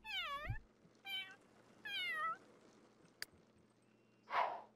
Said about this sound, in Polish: chyba koty